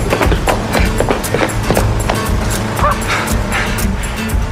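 Repeated loud dog barks and yips during a chase scene, close and dense over busy background noise, with some shouting voices mixed in.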